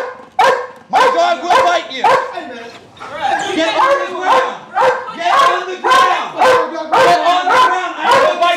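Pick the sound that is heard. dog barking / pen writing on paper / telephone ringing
dog barking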